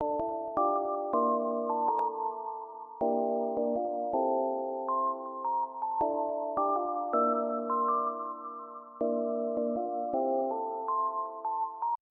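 A soft keys melody from the Electra key grotto preset in FL Studio plays alone, its bell-like chords moving in steady stepwise phrases with clear gaps and restarts.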